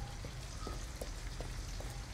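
Steady rain falling in the video game Detroit: Become Human, a dense even patter of drops on surfaces with a few faint brief ticks, continuous and fairly quiet throughout.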